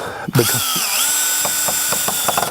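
A power drill drives screws into wooden hinges on seasoned wood. The motor whines steadily for about two seconds, and short bursts from the bit and screw repeat as each one bites in. The sound is close and loud, with no talk.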